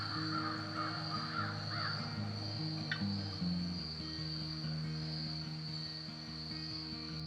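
Crows caw in a rural outdoor setting with a steady insect-like drone, their calls sounding moderately close and loud through most of the stretch.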